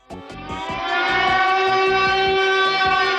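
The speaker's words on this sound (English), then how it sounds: "No, that's an air raid siren" A loud air raid siren wails continuously from an 8849 Tank 4 phone speaker, rising in pitch at the start and then holding steady, tinny and compressed.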